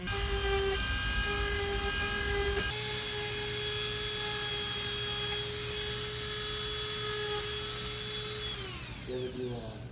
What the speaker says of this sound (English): I've got the luxury of a Dremel with a diamond blade